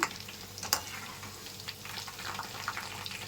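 Steady crackling sizzle of mushroom pakoras deep frying in hot oil, a continuous bubbling hiss with a sharp clink near the start.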